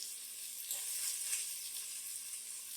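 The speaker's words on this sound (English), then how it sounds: "So the first thing we're going to add to this dish are the onions, our peppers, and our celery." Chopped onions, peppers and celery hit a hot pan and sizzle steadily, a bright continuous frying hiss that swells slightly midway with no voices.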